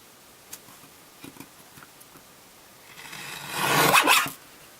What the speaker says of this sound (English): I'm going to try doing a thin slice.